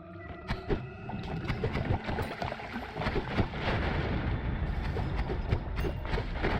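Rapid, dense bursts of explosions from a fast explosion wand in the video game Noita crackle and rumble continuously, overlapping blasts forming a loud, chaotic barrage with no speech.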